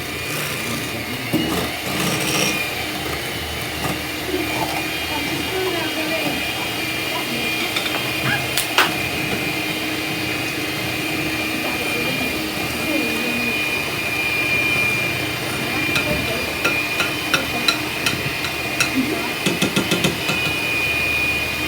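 An electric mixer beats cheesecake batter with a steady loud whir and grinding hum running throughout, with occasional clatter of beaters against the bowl.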